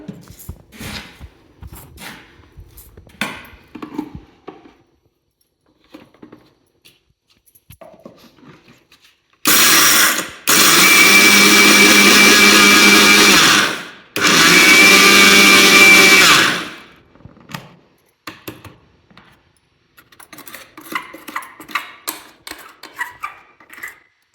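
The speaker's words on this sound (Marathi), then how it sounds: "साखर आता वाटून घेऊया आपण." A mixer grinder grinds sugar for wheat flour ladoos in two loud, close bursts of whirring, the second longer, separated by a brief pause and surrounded by quiet kitchen clatter.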